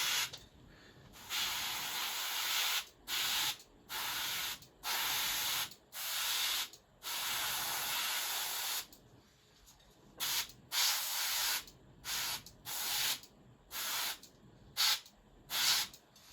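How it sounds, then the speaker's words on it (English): Black spray primer hisses onto a BattleTech Clan Wolf miniature in a long burst followed by a series of short, evenly spaced blasts separated by quiet gaps, close and steady. "I'll continue priming it black"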